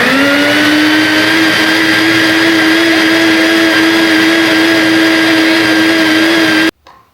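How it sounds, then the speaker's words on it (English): A loud, powerful blender whirs steadily while making a smoothie, a close, high-pitched motor whine that holds constant for several seconds and then cuts off abruptly. "Listen to this blender."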